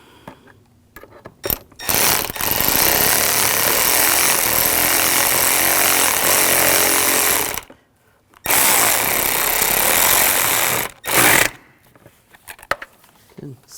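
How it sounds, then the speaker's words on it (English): A power tool runs in two long, loud, steady bursts while tightening an intake manifold clamp on a 2007-2013 BMW 328i 3.0L inline-six, separated by a brief pause, with a short final burst after. "Now I'll tighten down the clamp."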